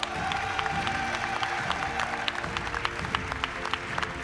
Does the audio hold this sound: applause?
yes